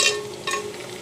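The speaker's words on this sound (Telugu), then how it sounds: "ఇప్పుడు మనం కట్ చేసి పెట్టుకున్న ఆనియన్స్ ఇవి నెయ్యి వేసి ఫ్రై చేసుకుంటున్నా." Sliced onions sizzle in hot ghee in a pan while cooking for biryani, a brief, soft frying hiss with a light stirring scrape, close and quiet.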